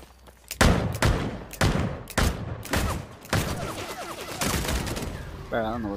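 Heavy bursts of video game gunfire, five or six loud volleys close together with short gaps between them, then a denser stretch with a voice talking underneath.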